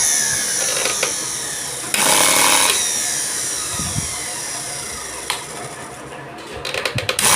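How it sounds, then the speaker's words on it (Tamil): A kitchen mixer grinder motor, sparking heavily from a faulty armature, runs after being switched on: a close whining drone with a louder burst early on and a few sharp clicks near the end. "மோட்டார் ஓட்டிப்போம் மிக்சி சுவிட்சை ஆன் பண்ணுறேன்"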